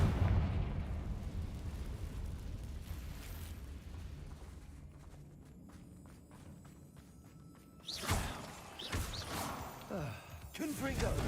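Confringo fire spell bursting in the Hogwarts Legacy game: after a low rumbling stretch, a sharp explosive blast lands near the end, followed by crackling bursts, with a voice speaking around it.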